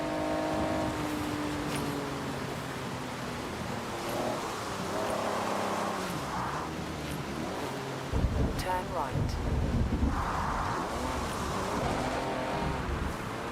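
A car engine drones steadily while driving in Forza Horizon 6, the tone shifting with speed and rising into a louder, rougher stretch partway through, with a navigation voice speaking over it.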